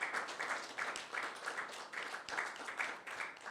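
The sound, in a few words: audience applause at a salon event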